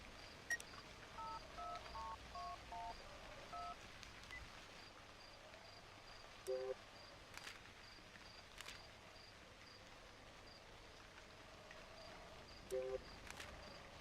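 Phone number dialing tones in the video game Cry of Fear: short paired beeps pressed in a quick run, then single tones spaced apart, faint over a quiet hissing ambience with insect-like chirps.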